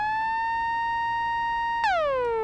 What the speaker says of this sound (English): The synth lead by itself, just to remind you, just sounds like this.